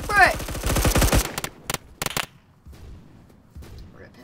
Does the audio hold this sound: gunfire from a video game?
yes